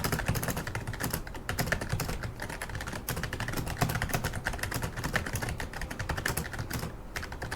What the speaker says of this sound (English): So now we're going to go ahead and do a typing test.